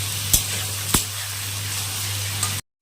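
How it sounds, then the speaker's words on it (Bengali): Chopped onions frying in a pan give a gentle continuous sizzle with a couple of sharp clicks or taps of a utensil, nearby and without talk, before the sound cuts off. "পেঁয়াজ, কুচনো পেঁয়াজ আমাকে এখন ভেজে নিতে হবে।"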